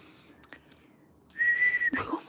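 A person whistles a single sustained tone of about half a second, fairly loud and close, after a quiet stretch with a few faint clicks, followed by brief breathy noise.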